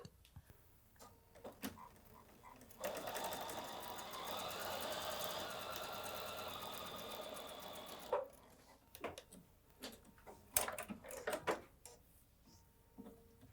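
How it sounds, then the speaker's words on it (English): A sewing machine stitching a quilt block seam runs in one steady, fairly quiet burst of several seconds, framed by small handling clicks and taps before and after. "I'm going to go to the machine and I'm going to go ahead and sew that"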